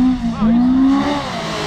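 A Can-Am Maverick X3 side-by-side UTV engine revs as it comes in for a jump, a near, loud, rising and wavering drone held for under two seconds.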